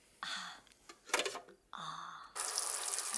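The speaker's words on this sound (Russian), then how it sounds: "Это душ?" Water bursts from a makeshift shower set up in a former pantry or kitchen of an apartment in a 1978 film, coming in uneven spurts with sputtering pauses before settling into a steady hiss of running water.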